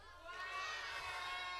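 A church congregation cheering loudly together during a Sunday service, a dense swelling wash of many voices shouting, children among them, sustained and close.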